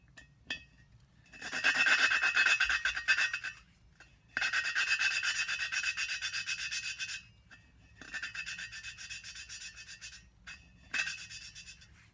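Valve seats in a BSA Fury SS cylinder head are roughened with a hand tool, giving bursts of rasping, gritty rubbing of a few seconds each, separated by short pauses, close up and without talk.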